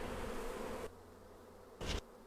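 Honey bees buzz around an open beehive during honey extraction: a faint, steady buzzing for the first part, then near-silence broken by a brief close-up buzz pass.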